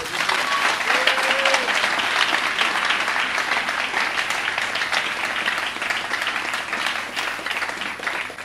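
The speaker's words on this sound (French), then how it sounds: "On acclame le Saint-Esprit." Many worshippers clap together in a church service, a thick, even roar of applause that holds steady and loud for several seconds, with faint voices buried in the crowd.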